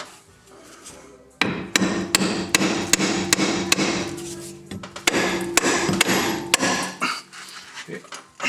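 Repeated hammer blows strike the front ball joint and control arm on a Mercedes-Benz W210 E320, a dozen or so sharp metallic whacks in uneven rhythm, close and loud in a garage with faint ringing between hits.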